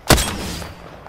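A single loud, close gunshot cracks out in the battle royale shooter Apex Legends, followed by a short decaying echo.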